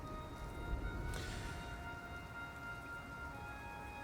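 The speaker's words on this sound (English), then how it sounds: "the thunder and lightning has subsided, but the rain continues." Steady rain falls as a soft, even hiss with no breaks, faint and distant, with no talk over it.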